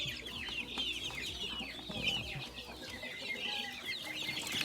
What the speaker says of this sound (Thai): ไก่พวกนี้ครับ ไก่น้อยนะครับ